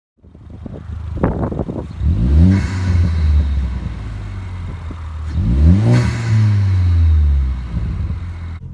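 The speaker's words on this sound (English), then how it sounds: "even just with the stock recirc valve, you can really hear a lot of turbo noise" A Ford Focus ST fitted with an Injen catback exhaust and a stock recirculation valve revs hard twice, each rising engine roar carrying a turbo whoosh before falling away, loud and close.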